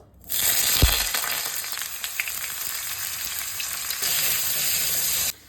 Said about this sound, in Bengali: এই ঝিঙে, আলু, চিংড়ি মাছ নুন হলুদ দিয়ে ভেজে নেব।